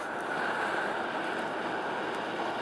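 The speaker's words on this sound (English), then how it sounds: "let's get it plugged in and see what the blower does" A portable forge's electric blower running: a steady, broad whooshing roar of rushing air with a mid-range hum, continuous and fairly loud from start to finish, with no voices.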